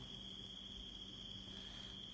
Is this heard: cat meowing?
no